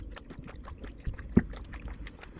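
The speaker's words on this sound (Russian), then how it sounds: "Полученный маринад постепенно вводим в мясо." Marinade is gradually poured into raw beef, giving a soft, steady liquid trickle with a light wet splat partway through. The sound stays close and quiet, and no one talks.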